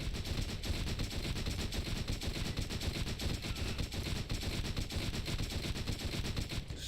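Sustained rapid gunfire from the Borderlands video game while fighting a tough brute enemy, a dense, continuous stream of shots at steady volume with no talking.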